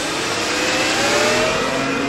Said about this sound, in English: That's just revving up the engine in neutral